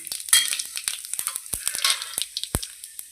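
Cumin seeds sizzle and crackle in hot oil in a pan, a close, steady fry broken by sharp pops and small clinks, with no voices.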